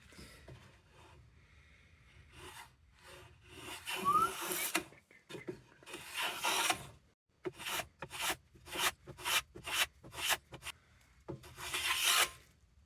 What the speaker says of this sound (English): Hand plane can finish that off.